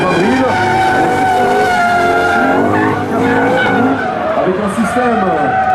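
BMW M5 drift car with water sprayed on its rear tyres, sliding on a demo track at an expo show: continuous loud tyre squeal and engine roar with wavering pitch throughout, close by.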